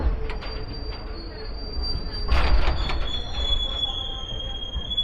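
The AP Express rolls past at a Visakhapatnam platform, a close rail rumble carrying a sustained high wheel squeal that swells briefly midway, then steadies.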